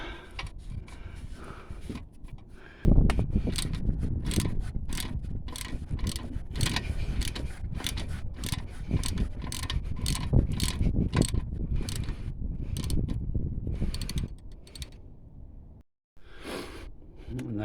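On a BMW MINI R56, 7mm Allen key bolts are turned out of a brake caliper, producing a close run of rapid ratcheting clicks that stops with a brief silence near the end.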